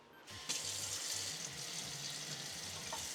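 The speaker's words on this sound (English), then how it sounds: "So let me grab some water from the sink." A kitchen sink tap runs steadily after being turned on, a continuous close hiss of flowing water into the basin, with a light knock near the end.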